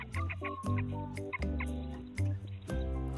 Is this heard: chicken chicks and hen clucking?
yes